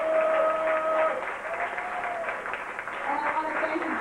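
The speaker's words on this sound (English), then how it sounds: "give a big round of applause to the venue" Audience applause at a Florida poetry slam state championship, a moderate sustained clatter of clapping that dips and swells over a few seconds, with a voice speaking over it.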